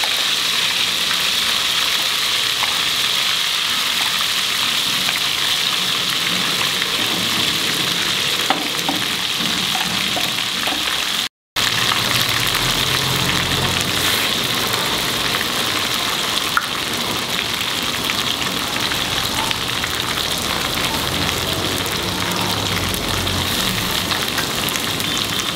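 Ground masala mixed with vinegar fries in a pan for Goan mackerel fish pickle. A steady, loud, close sizzle runs throughout and breaks off only once, briefly, partway through.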